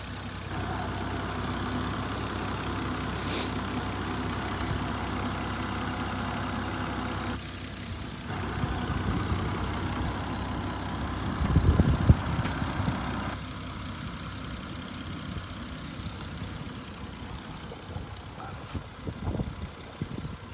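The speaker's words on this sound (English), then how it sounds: "I'll show you the engine running in this video." The engine of a 2003 Volvo XC90 idles steadily nearby with a constant low hum, a brief louder rise near the middle, and some faint handling noises toward the end.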